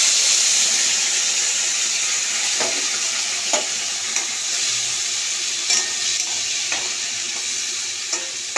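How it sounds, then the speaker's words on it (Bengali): A paste of mustard, poppy seed, green chili, tomato and cumin sizzles steadily in oil in a wok, with occasional soft scrapes and clicks from stirring; the frying is close, loud and continuous, with no talking. "তো এই মিশ্রণটা আমি কড়াইয়ের মধ্যে ঢেলে দিলাম।"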